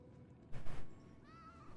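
Spring, a pet cat, lets out a short meow near the end, faint and close, after a brief soft rustle, with no voices.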